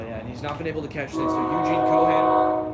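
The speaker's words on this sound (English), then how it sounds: "We want to apologize for the train horn." A loud sustained train horn blares in from the distance and holds steady, beginning under a man's play-by-play talk of a baseball game, which it then drowns out.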